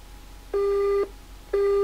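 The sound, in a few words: telephone busy signal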